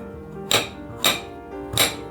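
Pepino melon being chopped with a knife on a cutting board: three sharp, separated chops about half a second apart, close and clear over a faint background hum.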